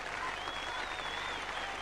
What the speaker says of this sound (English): Mike Hendrick will take a well-deserved round of applause for his wonderful bowling here